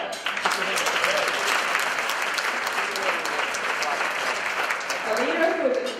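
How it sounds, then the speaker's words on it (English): Guests at a Girl Scout luncheon give sustained, even applause for the county executive, a dense wash of clapping from a sizable room that holds steady for six seconds, with a brief voice near the start. "And with that, we applaud"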